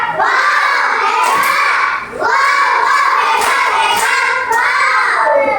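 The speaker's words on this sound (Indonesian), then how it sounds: "Kita kasih tepuk tangan hebat. Tepuk tangan hebat." Classroom of children performing a patterned clapping chant, loud shouted group voices over rhythmic clapping, in two bursts with a short dip between them.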